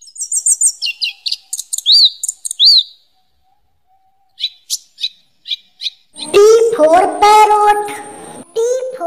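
A parrot chirps in a children's phonics song sound effect, bursts of sharp rising tweets and whistles, a pause, more quick chirps, then a loud, dense squawking and trilling passage, close and clear.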